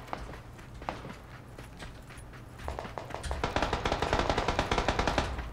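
Rapid automatic gunfire in PlayerUnknown's Battlegrounds, a scattered early shot or two building into a dense, steady burst of machine-gun fire over the second half, loud and continuous.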